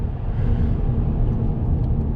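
A 2019 Chevrolet Silverado Trail Boss Custom accelerates while merging, heard from inside the cab as a steady low engine and road rumble that holds fairly loud and even throughout.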